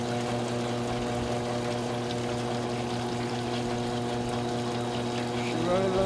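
Clean water poured into a mining gold pan during small-scale gravity separation of heavy concentrate, a steady splashing pour with a continuous hum of machinery throughout.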